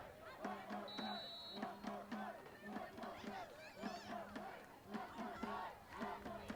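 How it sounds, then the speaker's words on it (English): Cheerleaders and fans at a high school football game near the end of play shout rhythmic, repeated chants, a crowd roaring in short bursts with a clear beat of clapping and cheering. "cheerleaders and fans trying to cheer them on to get some more points"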